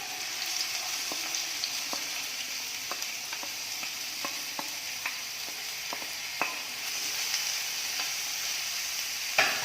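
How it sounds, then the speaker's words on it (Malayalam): Sliced onions fry in hot oil with a steady hissing sizzle, dotted with small crackles and pops that come at irregular moments, close and even, with no voices. "അതിലേക്ക് നമുക്ക് സവാള ഇട്ട് കൊടുക്കാം."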